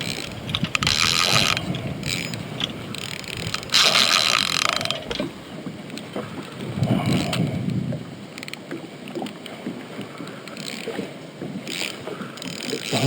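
A fishing reel's drag clicks and ratchets in rapid bursts as a hooked catfish pulls line from a boat, mixed with wind and water noise in close, uneven surges.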